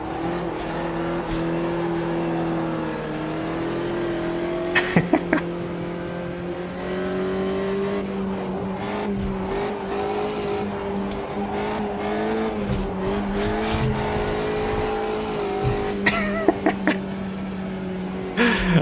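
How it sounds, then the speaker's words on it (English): A Volkswagen Fusca drifts through a race in Automobilista 2, its engine droning and revving steadily at close range with bursts of tire squeal, continuous and loud throughout. "A little bit of Fusca drifting for you guys."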